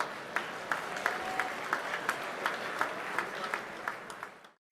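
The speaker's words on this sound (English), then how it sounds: "A round of applause for John Gatsimatidis." Guests at a Greek Independence Day anniversary gala award ceremony in a Hilton ballroom applaud, with dense clapping and a few sharp, distinct claps standing out before the sound cuts off abruptly.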